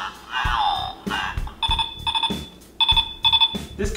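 Keitaizer toy phone in calling mode rings with repeated electronic trilling bursts in a steady on-off rhythm, loud and close, following an opening warbling electronic tone.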